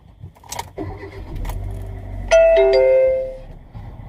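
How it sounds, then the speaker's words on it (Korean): A car engine cranks and catches at the start of a driving licence test, with a bright chime ringing out as it starts, followed by a low idle. "5초 내에 엔진 시동을 거세요."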